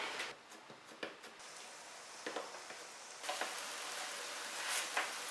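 Soybean pulp patties fry on an electric griddle with a quiet, steady sizzle and a few faint taps and clicks, and the hiss grows louder and brighter partway through.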